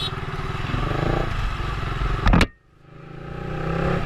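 Yamaha R15 v3 motorcycle fitted with a full Akrapovic exhaust, loud and close, its engine rumbling steadily, then a short sharp rev that cuts abruptly to near silence before the idle climbs back.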